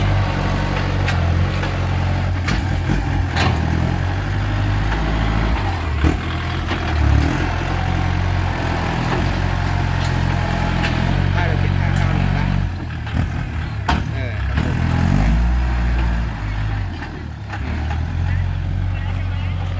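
Kubota L5018 tractor diesel engine running steadily with a deep low rumble throughout, close and fairly loud, with people talking over it.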